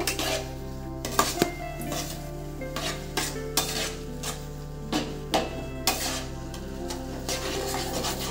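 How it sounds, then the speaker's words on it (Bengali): Semolina and milk being stirred in a pan to make semolina gulab jamun, with steady scraping and clinking of a utensil against the metal, a soft bubbling sizzle, and a low steady hum throughout. "অল্প অল্প করে দুধ দিয়ে সুজিটাকে ভালো করে সেদ্ধ করে নেব"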